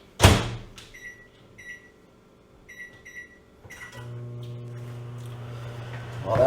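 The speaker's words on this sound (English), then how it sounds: "I usually put it in the microwave, let it melt in the microwave" Microwave oven running to melt frozen butter, a steady low hum with a few short beeps and a door clunk, heard close with no speech.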